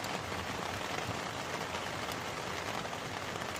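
Steady rain falls at night, a dense, even hiss of drops on surfaces that stays constant throughout with no talking.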